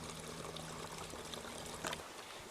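A small stream trickles and pours into a creek in a wooded hollow, a soft continuous wash of running water, faint and steady with no voices.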